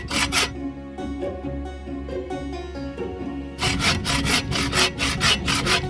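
A hand saw cuts through thick wood during bushcrafting outdoors, close rhythmic rasping strokes that pause briefly, then resume with faster, harder back-and-forth pulls.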